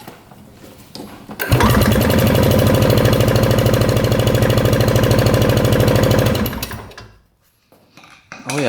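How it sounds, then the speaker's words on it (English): A 1965 scooter engine, long unused with very low original miles, is cranked over with the throttle open for a compression test, giving a loud, steady rapid chugging that runs about five seconds and then stops abruptly. "let's see what we get for compression"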